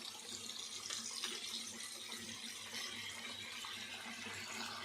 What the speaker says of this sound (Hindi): जितनी आपको ग्रेवी चाहिए आपने उतना पानी डालना है इसके अंदर।